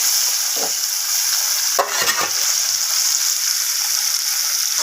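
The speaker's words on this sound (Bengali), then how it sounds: "তো বাকি মাছগুলোকেও আমি ভেজে নিচ্ছি।" Bata fish pieces fry in hot oil with a continuous bright sizzle, broken by a few louder crackling bursts as they are turned, with no voices present.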